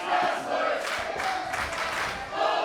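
Wrestling crowd at an independent Beyond Wrestling show in Foxborough cheering and shouting in appreciation after a match, a steady loud roar of many voices that swells and falls throughout.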